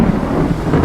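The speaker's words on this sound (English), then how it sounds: "Lightning crashes" Thunder crashing during a stormy downpour, a dense, loud, continuous low rumble with a rainy wash, sustained throughout without pauses.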